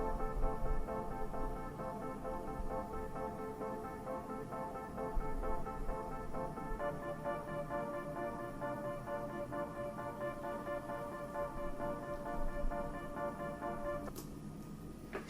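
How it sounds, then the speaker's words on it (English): Sustained synth pad chords in a beat, layered horizontal tones holding steady, then shifting to a new chord partway through and cutting off near the end, with a low rumble beneath and no talking. "then I have some synths that sound like this"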